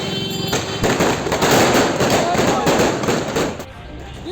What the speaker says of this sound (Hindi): बाकायदा कार का सनरूफ खोलकर दनादन आतिशबाजी की जा रही है।